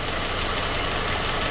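A BMW car engine idles steadily during an oil change, a constant, loud broadband hum running unbroken close by with no talk over it.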